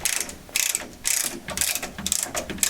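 A Nerrad adjustable ratchet action tube cutter working around a tube, giving bursts of rapid metallic ratcheting clicks in repeated strokes with brief pauses between, close and clear with no speech.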